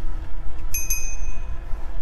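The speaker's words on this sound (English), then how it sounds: "they get some safety points there for having a bell in here." A GoVelo e-bike's bell rings twice in quick succession, with bright metallic rings over a low background rumble.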